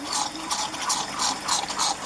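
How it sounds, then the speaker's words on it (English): A fish tank filter and sump system bubbles and gurgles, water splashing in quick regular surges about twice a second, close and fairly loud with no talking. "Over here, bit of bubble action happening."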